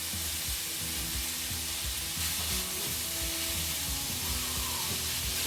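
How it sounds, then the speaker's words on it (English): Loud, continuous sizzling of beef mince frying in a hot pan, with occasional scraping and stirring sounds over the crackle. "I'm going to put this mince straight into the pan."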